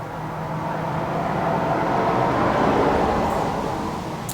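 A car drives past outside a blacksmith's workshop, a steady broadband road rush that swells gradually toward the middle and fades slightly at the end, heard alone without talk.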